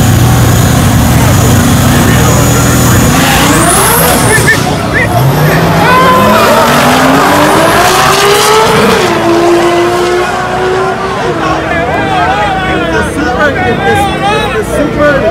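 A Toyota Supra drag racing against a Mustang launches with its tires spinning, loud engine roar and rising revs close by, while a crowd babbles and spectators talk over the noise.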